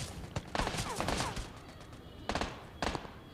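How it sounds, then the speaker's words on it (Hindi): Gunfire from an enemy in a mobile shooter game comes in quick bursts of sharp shots, clustered early and again near the end, with quieter gaps between them. "वो भाई उधर से फायरिंग देता है।"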